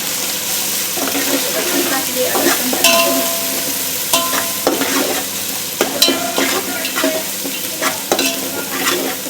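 Ginger garlic paste frying in a pan while being stirred, a steady bright sizzle broken by repeated spatula scrapes and taps, close and fairly loud.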